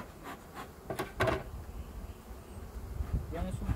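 Honey bees buzzing around frames as a beekeeper's smoker puffs over the hive, a soft continuous hum with brief rustling bursts near the start and mid-clip, quiet voices faintly underneath.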